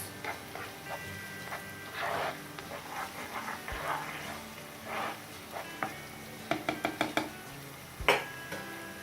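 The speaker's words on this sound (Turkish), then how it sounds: "Soğanlarımız hafif pembeleşinceye kadar, dirilikleri biraz gidinceye kadar kavuruyoruz." Onions sautéing in a pan for Turkish olive-oil artichokes, a soft steady sizzle under scattered clinks and scrapes of a utensil against the pan, with a few sharper knocks near the end.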